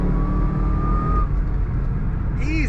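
A 2010 Chevrolet Camaro 2SS SLP ZL550 heard from inside the cabin as it accelerates to pass, a steady, loud engine drone with a rising whine and a brief chirp near the end, while someone talks.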